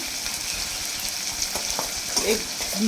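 Ginger garlic paste sizzles steadily in a hot pan, a close, continuous frying hiss broken by soft scraping and stirring sounds, with no voices.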